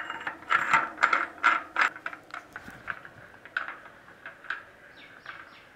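A 20 mm steel rod turns inside a welded bicycle hub fitted with a bearing, giving a run of ratcheting, squeaky metal clicks that start loud and taper off into fainter chirps.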